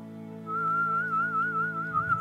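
A lone person whistles a wavering melody, each note held and bending smoothly into the next, clear and close over a steady hum of backing harmony that breaks into a rougher rumble near the end.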